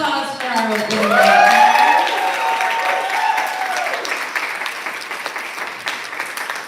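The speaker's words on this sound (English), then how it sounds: "one more round of applause for our opening writer" An audience at a literary reading event breaks into applause for the opening writer, with loud clapping mixed with a few whoops and cheers that peak early and then slowly thin out as a voice speaks over the clapping.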